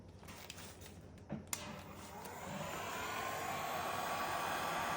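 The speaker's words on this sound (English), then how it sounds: "try it with the heat gun" A heat gun blows hot air while working on pallet wood for a clock. A few clicks and knocks come first, then a steady, fairly quiet rushing hiss builds and holds to the end.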